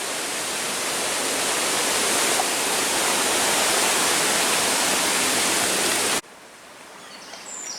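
Loud, steady rush of water pouring over a weir on the River Itchen, a chalk stream, filling the scene for about six seconds before cutting to a much quieter background with faint birdsong.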